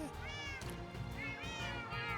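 A brown cat in Minecraft meows repeatedly over a dense bed of game music and ambience, the mews rising and falling several times, moderately loud, with no speech.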